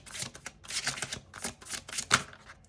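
A deck of tarot cards is riffle-shuffled close up in several quick bursts of crisp, fluttering snaps and flicks, ending in a sharper tap, with no voice over it.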